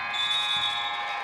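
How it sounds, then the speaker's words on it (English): A high school girls' basketball game's end buzzer blares in a steady, continuous electronic tone, held loud and unbroken with no talk over it. "At the buzzer, Taylor Knighting puts it in"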